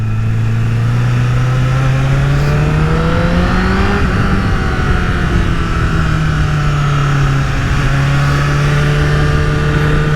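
A Honda CBR1000RR Fireblade SC59 liter-class superbike engine drones steadily at close range, its pitch climbing and dipping slightly as the bike is ridden along a road, with constant wind noise and no talk.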